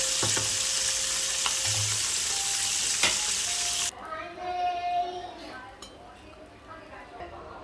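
KFC-style chicken pieces frying in hot oil, giving a loud, dense, steady sizzle that abruptly drops away partway through, leaving softer bubbling with a few metallic clinks of utensils against the pan.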